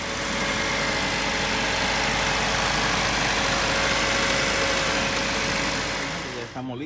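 A 1990 Acura Integra engine idles steadily and fairly loud with a constant low hum and a faint ticking texture, running evenly throughout before cutting off abruptly at the very end.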